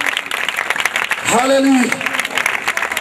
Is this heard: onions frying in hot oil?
no